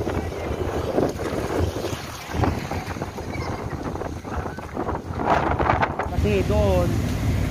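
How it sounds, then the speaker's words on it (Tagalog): Loud, steady wind roaring and buffeting the microphone throughout at the Baseco waterfront, with voices talking underneath and water churning nearby. "Sobrang lakas ng hangin."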